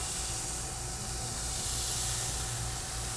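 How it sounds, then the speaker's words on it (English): Steady sizzling hiss of stuffed bell peppers frying in a hot pan, continuous and fairly close with no voices. "I hear some really good sizzling sounds as I'm cooking"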